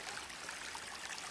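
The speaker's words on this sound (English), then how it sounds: "Cute little water source." A small stream trickles along the Appalachian Trail in mountain woods, a soft continuous watery babble at low volume with no voices.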